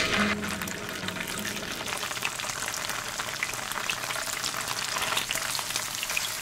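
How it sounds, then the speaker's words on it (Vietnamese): Tofu sizzles and crackles in hot oil in a pan, a steady close frying hiss that continues without pause. "Và dầu nóng thì mình cho đậu hũ vào chiên vàng mặt cắt."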